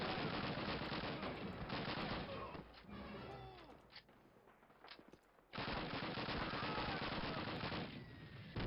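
Call of Duty gunfire rattles in dense, loud machine-gun bursts during a Warsaw and Oder river battle. The firing drops away for a short lull with scattered shots, then resumes at full intensity.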